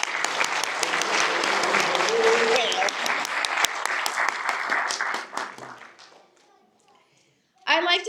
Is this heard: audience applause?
yes